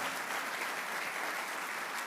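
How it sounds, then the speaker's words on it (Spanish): Strong applause from a church congregation during a Spanish-language sermon, steady and dense throughout with no voices standing out. "le dé un aplauso fuerte al Señor"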